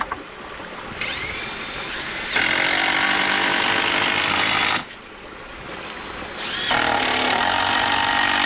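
A power tool drives fasteners into 25-and-a-half-inch wooden boards during a waterwheel build: two sustained whirring bursts, each rising in pitch and loudness, separated by a brief pause, close and fairly loud.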